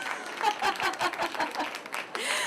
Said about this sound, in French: Merci Maë, on l'applaudit.